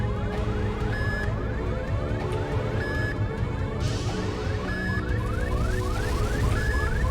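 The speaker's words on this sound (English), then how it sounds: "Can we stop the alarm, please?" An electronic alarm in the video game The Beginner's Guide blares without a break, a rapidly repeating siren-like warble that stays steady and loud, with no voices over it.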